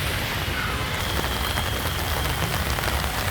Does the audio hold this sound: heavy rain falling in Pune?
yes